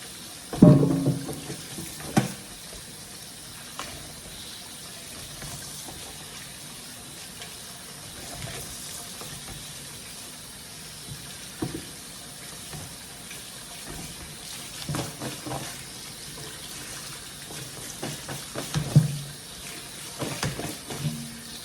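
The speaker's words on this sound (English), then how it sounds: "over here we're gonna wash the potato really nice and clean" Sweet potato being scrubbed clean under a running kitchen tap: a steady stream of water splashes into the sink, with irregular louder splashes and knocks as the potato is handled, and no voices.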